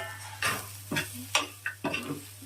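Ivy gourd pieces with coconut pieces and tamarind, stirred and fried in a pan for a chutney; about five distinct scraping stir strokes over a steady low sizzle, close and fairly quiet, with no talking.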